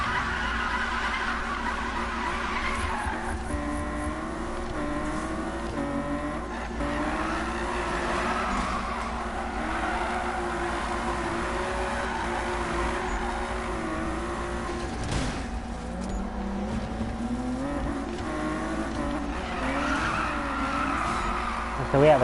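Tires squeal in repeated wavering screeches while a car engine drones steadily as the car drifts in Need for Speed. Someone talks over the racing sounds.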